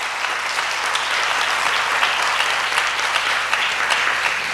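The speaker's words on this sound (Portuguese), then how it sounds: "A quem eu peço já uma salva de palmas." A crowd claps steadily, a dense, even patter of applause filling the whole stretch without pause.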